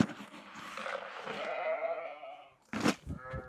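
Lambs bleat as they are fed at a farm, a long wavering bleat followed by a short sharp one nearby, with no talk over them.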